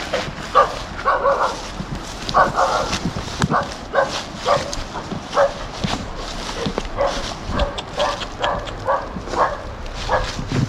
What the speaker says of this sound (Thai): เอาละมีน้องหมาเห่าครับทุกคน